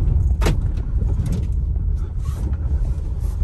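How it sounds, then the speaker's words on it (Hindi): Faint clicking and rattling ticks from a door panel scattered over a steady low road rumble inside a moving Tata Nexon after 10,000 km. "इस साइड पे जो डोर वाला पैनल है, पता नहीं आवाज कहाँ से आता है लेकिन काफी आवाज आता है"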